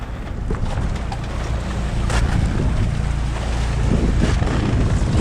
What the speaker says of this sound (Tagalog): Hirap pag maalon.